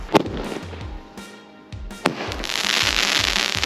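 A firework launches a parachute army man toy outdoors, with a sharp pop, a brief fizzing whoosh and another bang, then a sustained rushing hiss.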